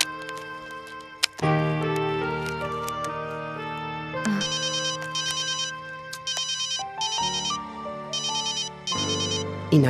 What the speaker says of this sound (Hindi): पायल, फोन काट दे ली।